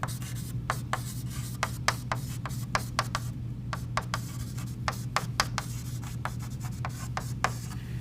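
A marker squeaks and rubs across a whiteboard in short repeated strokes, steady and close, over a constant low hum with no talking.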